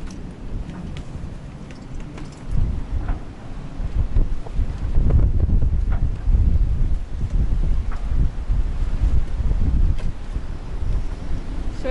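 Hurricane Nicole's gale roars around a boat anchored in a Florida bay, gusting above 40 knots in loud, buffeting waves of wind noise with water sloshing beneath and no speech.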